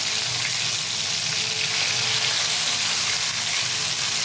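Pointed gourds stuffed with prawn filling, as for patoler dolma, sizzle in hot deep oil in a pan, a steady, close crackle and hiss with no talking.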